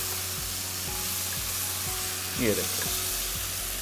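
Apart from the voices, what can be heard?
potatoes being stir-fried with tomatoes in pan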